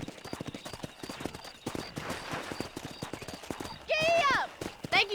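Horse hooves clip-clop in a steady, rhythmic trot while riding in the Red Dead Redemption video game, ending with a loud whinny and snorting close by over faint background game sound.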